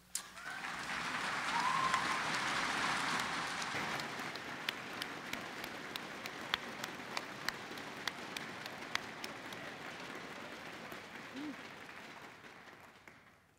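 Quiet applause from a college convocation audience, a thick wash of clapping that swells early then thins out, with a few sharper individual claps.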